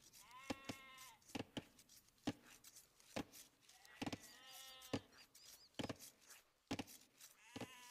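Sheep in the Age of Empires video game bleat repeatedly in short wavering calls, several distinct bleats spaced through the stretch among sharp game clicks and effects, fairly close and clear with no talk over them.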